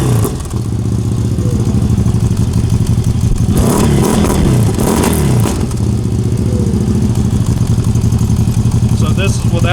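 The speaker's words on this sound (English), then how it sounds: "First fire up with the new exhaust" A CFMOTO UFORCE 1000 side-by-side with a new aftermarket exhaust fires up and idles loudly and steadily, with a sharp rev burst partway through, while people talk nearby.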